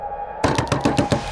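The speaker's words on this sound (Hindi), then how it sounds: "मृणाल जी, दरवाजा खोलने में इतनी देर क्यों की आपने?" Someone knocks on a door in a TV crime drama scene with a quick series of five loud, close raps, evenly spaced, alone with no talk.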